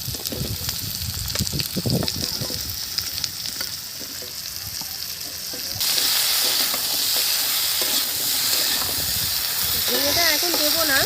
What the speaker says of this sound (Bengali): দিয়ে দিচ্ছি আলু, তার সাথে দিয়ে দেবো ঢেঁড়স